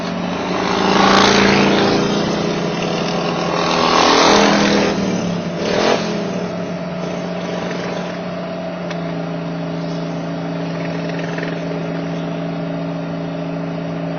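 Turbocharged Harley motorcycle with stacks, ridden hard up a road: loud engine roars through two rising revs, then settles into a steady, droning run that holds at high volume throughout.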